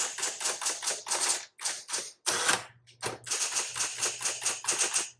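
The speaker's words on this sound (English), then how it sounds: "let's check out all of our keys" Keys clacking in quick rapid bursts on a repainted 1970s Electra 220 electric typewriter, with a steady power hum and a brief pause midway, close and loud with no talking.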